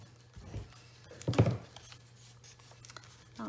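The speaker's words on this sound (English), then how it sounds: "I'm going to use my scissors just to burnish that a little bit." Scissors rub and scrape along a folded paper crease for journal making, a few soft, close scratching strokes with one louder swipe in the middle, quiet between.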